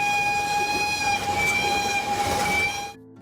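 A train on the Asmara-Massawa Railway in Eritrea rolls along the rails with a steady rumble while a loud, sustained horn blares above it, then cuts off abruptly.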